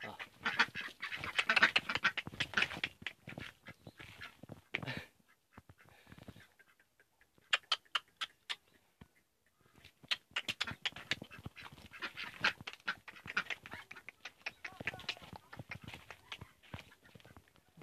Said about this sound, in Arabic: تراتوت تراتوت البط